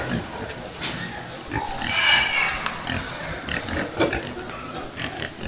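Pigs in a pen at a farm grunt and squeal at close range, with a louder burst of squealing in the middle, while a person talks faintly in the background.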